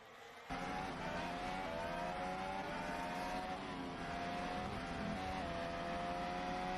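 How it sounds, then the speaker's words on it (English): Formula-style race car engine at the Seattle Grand Prix, car trailing smoke from the back, a steady high-pitched whine holding at constant pitch after a sudden onset, heard alone and fairly faint. "Let's listen to the engine."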